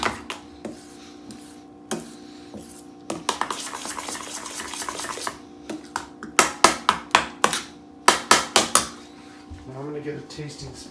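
A spoon stirs a chive and mustard mixture in a bowl, with rhythmic clinks and taps against the bowl in quick bursts, alongside some kitchen clatter.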